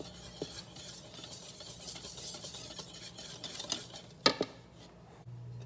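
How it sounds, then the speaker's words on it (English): A whisk clinks and scrapes through dry baking powder and salt in a bowl for cupcake batter, with light irregular taps and a sharper clatter near the end, close and fairly quiet. "Now you're gonna whisk it together and set aside."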